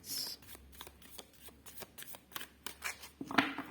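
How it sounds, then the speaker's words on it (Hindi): A deck of cards shuffled by hand during a Scorpio 2024 tarot-style reading: rapid, close riffling and flicking bursts repeating for several seconds, ending in a sharper snap, with no speech. "Last shuffle."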